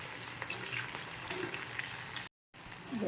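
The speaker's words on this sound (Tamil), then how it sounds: "ரெண்டையும் நல்லா வதக்கி விடுங்க." Onion and garlic sautéing in a pan, a steady soft sizzle and crackle that runs continuously at low level, broken by a brief gap before a light stirring scrape.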